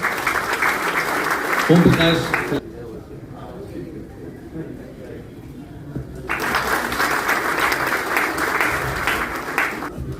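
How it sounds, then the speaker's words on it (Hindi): Bursts of clapping from an audience at an office New Year poetry gathering, loud at the start and again later, separated by a quieter stretch with a voice speaking over the room. "तालियां बजती रहें।"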